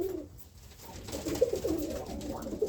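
Roller pigeons coo softly in a low, throaty series, with several repeated coos close by over faint background noise.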